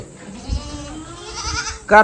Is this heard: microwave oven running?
no